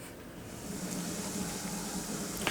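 Steady bubbling hiss of water boiling in a cooking pot for curry, a continuous low simmering noise at moderate level with no talking.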